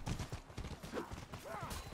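Horse hooves clop rapidly in a galloping rhythm during a medieval combat match in the video game Mordhau, fairly faint and mixed with other game noise and clashing.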